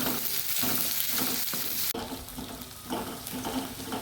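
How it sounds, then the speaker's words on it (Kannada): Onions frying in a pan while being stirred until soft, for a Mangalorean spicy jackfruit seed and navy bean curry; a steady close sizzle with scraping stir strokes, briefly cut off midway, no talking. "ಇದು ಸಾಫ್ಟ್ ಆಗೋ ತನಕ ನಾವು ಇದನ್ನು ಹೀಗೆ ಒಳ್ಳೆ ತಿರುಗಿಸ್ಕೊಳ್ಳೋಣ"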